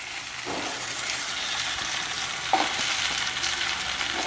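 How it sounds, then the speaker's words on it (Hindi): Chicken bhuna frying on high flame, a continuous dense sizzle with a few soft stirring scrapes, close and steady with no talking. "अच्छा बढ़िया हमने इसको हाई फ्लेम के ऊपर भून लिया है, और ये बहुत ही बढ़िया भुना गया है।"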